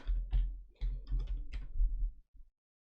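Keys clatter on a computer keyboard as Python code is typed, a quick run of close, crisp taps in several bursts with short pauses, ending in a couple of isolated strokes before silence.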